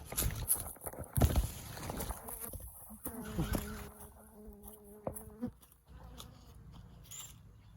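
A bee swarm in a back garden, with individual bees buzzing close past the microphone in wavering tones over a quiet outdoor background, mixed with a few scrapes and footstep-like knocks.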